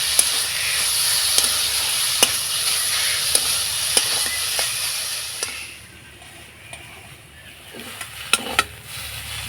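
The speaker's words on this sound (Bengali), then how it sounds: "এবার নাড়াচাড়া করে খুব ভালো করে কষিয়ে নেব আর একটু ভাজা ভাজা করে নেব।" Spiced pointed gourd filling sizzles and fries in a pan while a spatula stirs and scrapes it, a steady hiss broken by regular sharp clicks of the utensil. The frying quiets for a moment partway through, then the scraping resumes.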